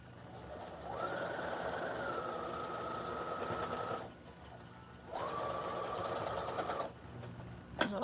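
Sewing machine running two long stitching passes on a costume, double stitching and back stitching, a steady close whir of about three seconds, a brief pause, then a second shorter run of roughly two seconds.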